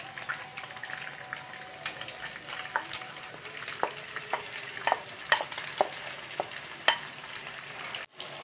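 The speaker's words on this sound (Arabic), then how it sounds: "دلوقتي هضيف البصل" Onions fry with chicken liver and gizzards in a pan, giving a steady close sizzle broken by frequent scraping stir strokes and small pops throughout.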